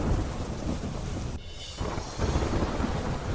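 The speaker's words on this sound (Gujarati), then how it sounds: "મણિપુરના ઇમ્ફાલમાં ધોધમાર વરસાદ વરસતા સર્જાઈ તારાજી" Heavy monsoon rain pours in Imphal, Manipur, a dense continuous roar of drops, with rumbling thunder swelling and a brief lull partway through, loud and close throughout.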